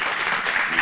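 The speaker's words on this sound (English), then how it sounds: "Give it a nice round of applause," A studio audience applauds a musical guest, a brief continuous burst of clapping heard alone.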